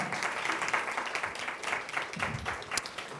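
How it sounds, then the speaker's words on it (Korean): Applause from a youth worship service audience, a steady dense wash of clapping lasting throughout without pause, fairly close and moderately loud with no voices over it. "박수 한번 더 주세요."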